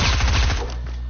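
A nose gun fires in a video game as a rapid, loud burst of repeated shots that rattles for about half a second, then trails off into a low engine drone.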